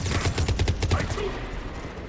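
Rapid bursts of video game gunfire crack out in a quick, repeated volley, loud and close, then trail off into a rumbling tail.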